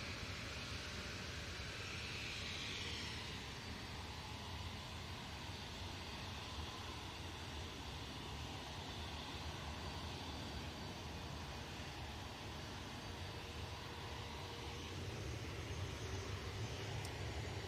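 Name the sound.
Jet2 airliner taking off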